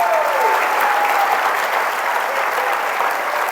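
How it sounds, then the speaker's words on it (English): Sustained crowd applause for Amy Blake Hardison at an acknowledgment event, a thick even roar of clapping hands filling the whole stretch without pause. "Please, a big round of applause"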